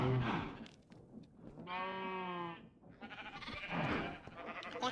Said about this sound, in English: which currently has a sheep in it